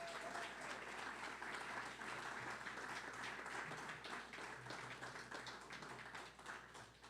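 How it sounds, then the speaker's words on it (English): A room full of people gives a round of applause for two honored guests, a faint, dense patter of clapping that holds steady and slowly tapers off. "2 people in this room deserve your round of applause"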